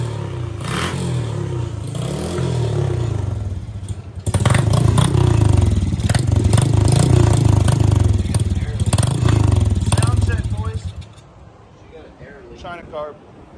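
Pit bike engine, a modified CRF 50 or Piranha 140, running after being started. A loud, close, raspy buzz holds steady for about ten seconds and then drops off, with voices talking over it.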